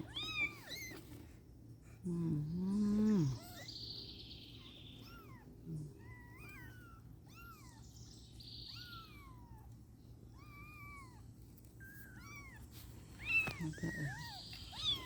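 A stray kitten meows repeatedly at a distance, thin high calls scattered through the clip over a quiet background, with a brief louder low voice-like murmur early on.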